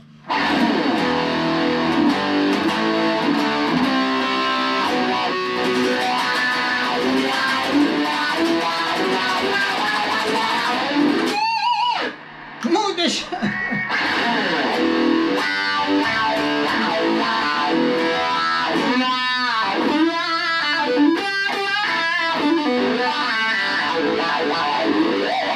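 An electric guitar through a Samick LA10R amp with the reverb turned down plays a dense, slightly distorted stream of notes and chords, loud and drier, with a short break midway and quick trilled phrases later.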